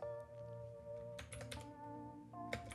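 Fingers tap a computer keyboard in short bursts of clicks, close and fairly quiet, with brief pauses between strokes.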